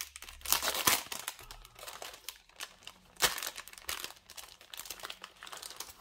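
Christmas paper die cuts rustle and crinkle as a plastic package is opened, with irregular crisp bursts of crackling separated by short quieter gaps, close and clear with no talking.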